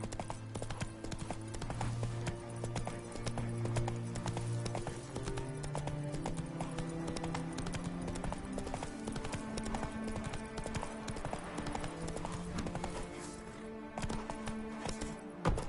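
Horse hooves clip-clop steadily at a gallop in The Witcher 3 video game, a continuous close rhythm with no talk over it.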